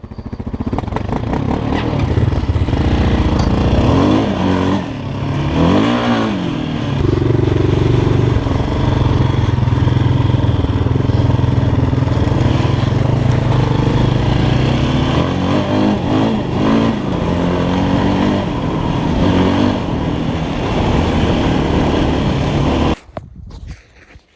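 A motorcycle on new tires revs hard on snow for a long stretch, loud and close, with the engine climbing and falling in pitch and clattering mechanical noise before cutting off abruptly at the end.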